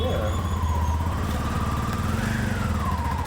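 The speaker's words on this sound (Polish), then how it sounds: "Mój debiut w tuk-tuku." Tuk-tuk auto rickshaw engine on a street in New Delhi, a steady, close, buzzing small-engine drone with a rising and falling pitch as it runs, loud and continuous throughout.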